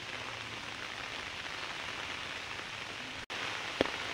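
Monsoon rain falls steadily outdoors under trees, a dense even hiss of drops with a brief dropout and a single sharper tap near the end.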